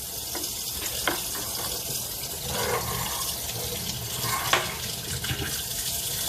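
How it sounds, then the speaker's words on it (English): Hot water runs from a tap over a frozen ice gun, a steady rushing splash with hissing, crackling bursts rising and falling across the stretch, close and fairly loud. "Hot water should do the trick."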